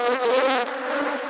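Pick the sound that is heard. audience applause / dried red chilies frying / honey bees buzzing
honey bees buzzing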